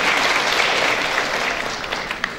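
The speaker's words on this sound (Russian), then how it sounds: "аплодисменты ребятам, они вот так волнуются." An audience applauds at a dance ensemble performance, steady dense clapping that fills the space, loud and continuous before tapering slightly at the end.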